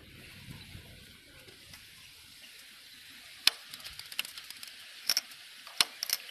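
Small electronic device on a 2021 Bajaj Platina 100cc BS6 motorcycle running just after the bike is switched off and back on: quiet, sparse clicks and ticks, mostly toward the end, over a low background hiss.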